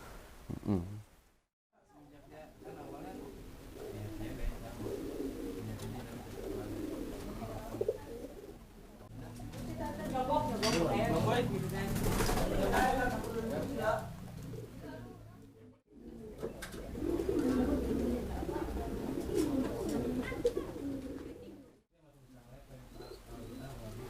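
Soft, low pigeon coos repeat through a murmur of background voices, quiet and steady with a few brief pauses.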